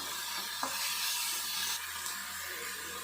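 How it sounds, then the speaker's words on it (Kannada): Chillies and onion frying in a pan, a steady bright sizzle with a faint stir or tap now and then, close and continuous without talk. "ಮೆಣಸಿನ್ಕಾಯಿ ಮತ್ತು ಆನಿಯನ್ನು ಈರುಳ್ಳಿಗೆ ಸೇರಿಸ್ಕೊಳ್ಳೋಣ ಸೇರಿಸ್ಕೊಂಡಾಗಿದೆ ಇವಾಗ ನೀಟಾಗಿ ಫ್ರೈ ಮಾಡ್ಕೊಳ್ಳೋಣ"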